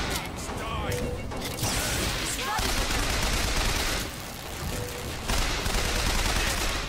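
Gunfire in Bioshock Infinite, dense bursts of shots and mechanical clatter mixed with game noise, dipping briefly partway through before picking up again.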